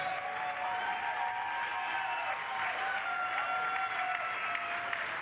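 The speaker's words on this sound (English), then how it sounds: "let's have a huge round of applause for these 2 warriors." An arena crowd at a professional boxing event applauds after a fight, producing a continuous wash of clapping and murmur heard at a moderate distance.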